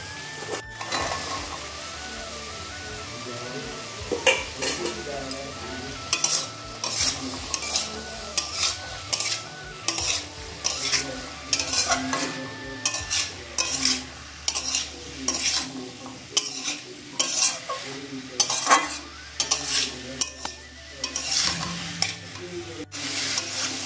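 Boiled chickpeas and potatoes stirred into sizzling onion, garlic and ginger masala in a kadai, rhythmic bursts of scraping and clinking spoon strokes over a steady frying hiss, close and clear, without speech.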